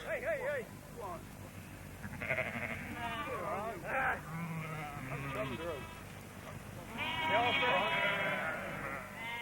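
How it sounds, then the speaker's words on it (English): Sheep let out of pens near the Glastonbury festival bleat repeatedly, several wavering calls overlapping at moderate distance, with people talking underneath. "bringing out their sheep after being penned in for safekeeping during the festival"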